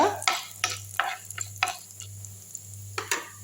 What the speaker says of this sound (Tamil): உளுத்தம்பருப்பு நல்லா வறுப்படட்டும் நல்லா வறுத்துக்கலாம்